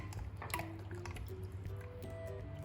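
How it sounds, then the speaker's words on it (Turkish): Water poured from a glass into a pan of tomato paste, a steady close liquid trickle with small drips and splashes running throughout, no talking. "İki su bardağı su ekledim."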